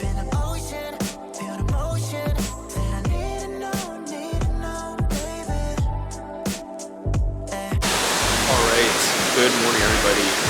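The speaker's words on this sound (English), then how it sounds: "Right now we're at the Jeebanoff waterfalls." Rushing water roars at the Jeebanoff waterfalls in Korea, a loud, dense, continuous wash that takes over abruptly after several seconds of rhythmic music.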